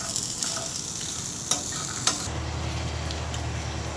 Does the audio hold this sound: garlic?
yes